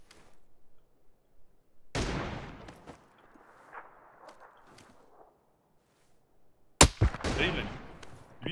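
Gunshots in the battle royale video game PUBG: two sharp, loud cracks several seconds apart, each followed by echoing tails, with quieter rustling and footstep-like clicks in between and a near-silent stretch.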